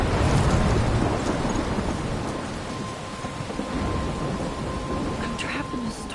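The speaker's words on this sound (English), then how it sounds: "I'm trapped in a storm?" A thunderstorm in Life is Strange: heavy rain and rumbling thunder roll on continuously and loudly, a dense wash of storm noise with a faint voice underneath.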